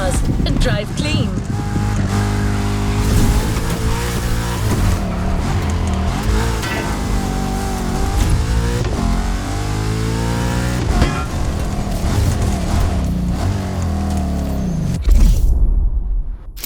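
A Porsche drives fast on the autobahn in an advert, its engine roaring steadily and revving up and down in sweeping pitch changes, loud and close throughout, with voices layered over the engine sound.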